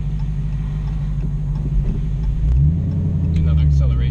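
A 2016 Dodge Challenger Hellcat with a six-speed manual rumbles deep and loud, then its supercharged engine revs up and surges in pitch as it accelerates in the second half.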